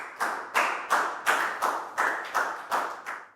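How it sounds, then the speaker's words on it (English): A class of students clapping for a classmate in a Year 4 maths lesson, about nine sharp, evenly spaced bursts of rhythmic group claps, close and moderately loud with no talk. "Big round of applause for Pak Bung,"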